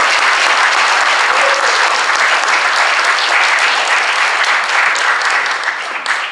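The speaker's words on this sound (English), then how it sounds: "just one more big round of applause for both of our candidates" A state Libertarian Party convention audience gives a big, sustained round of applause for Senate candidates, dense clapping from many hands filling the room loudly and evenly for about six seconds before tapering slightly.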